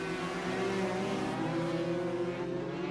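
A Honda Grand Prix racing motorcycle at the 1992 Malaysian Grand Prix circuit, its engine a continuous high-pitched roar held steady at speed, loud and unbroken throughout.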